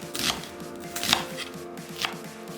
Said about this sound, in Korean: 양파 큰 거 반개는 1cm 두께로 편 썰고 같은 두께로 채 썰어서